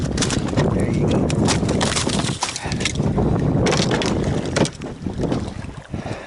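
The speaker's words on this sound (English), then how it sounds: "If this wind would calm down" Strong wind buffets a small boat out on open water, a loud, steady roar with gusty swells and brief dips, no voices heard.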